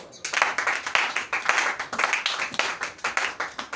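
A church congregation at a Sunday service claps steadily, a dense run of overlapping hand claps with faint cheering mixed in, continuous and fairly close for the whole stretch.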